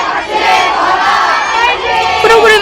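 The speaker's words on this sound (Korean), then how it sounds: "파이팅 크게 해주세요" A loud crowd cheers and shouts together, a dense wall of voices sustained throughout with a few louder calls rising near the end.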